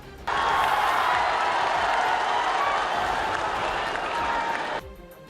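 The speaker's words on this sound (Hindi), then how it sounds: "लोगों ने उनकी बातों का ताली बजाकर समर्थन किया।" Dense applause from a packed crowd at a Prime Minister's election rally in Purulia, sustained and loud for about four and a half seconds and then cutting off sharply.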